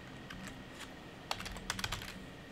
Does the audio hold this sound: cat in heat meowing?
no